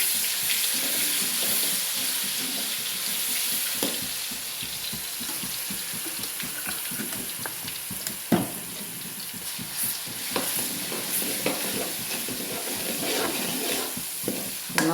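Ginger garlic paste sautés in a pan for mango pickle, giving a continuous close sizzle broken by scattered scraping and clicking from stirring. No voices are heard.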